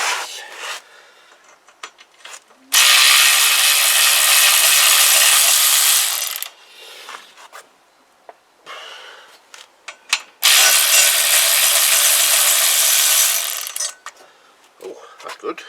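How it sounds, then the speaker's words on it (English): A power tool spins out bolts from a Kawasaki GPZ500S motorcycle engine, making two loud sustained whirring runs of several seconds each, separated by quieter clicks and handling noise. "I'm just going to whiz them all out now with my fancy tool"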